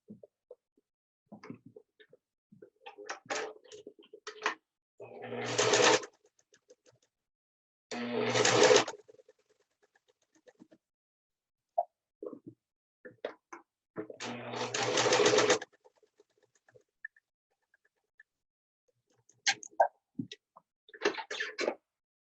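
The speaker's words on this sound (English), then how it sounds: "you're going to sew just sew this line right here, both of the pieces of material together" A sewing machine stitches two pieces of fabric together for a cloth mask, running in several short bursts of a few seconds each with quiet gaps between them and occasional faint clicks.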